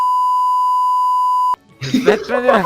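A censor bleep added in editing, a steady loud pure tone held for about a second and a half, cut off abruptly, followed by someone talking.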